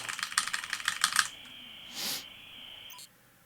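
Fast keyboard typing in SUPERHOT as chat boxes fill, a dense clattering burst of keystrokes for over a second, then a short whoosh and a faint lingering tone before cutting off.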